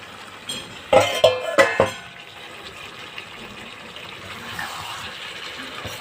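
Fried gathi kochu (taro) stirred back into a spiced masala with oil in a pan, a few sharp clattering scrapes and clinks of a spatula against the pan near the start, then soft low sizzling.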